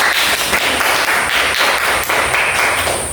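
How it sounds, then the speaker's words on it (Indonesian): A classroom of students claps for a student group, a dense, continuous burst of applause at close range lasting a few seconds without talk. "Kita berikan tepuk tangan untuk kelompok 3"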